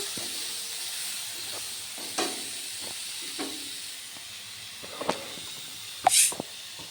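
Tomato, green chili and salt sizzle in a pan while being stirred for whole-wheat pasta, a steady soft hiss with a few scrapes and clinks, the loudest near the end.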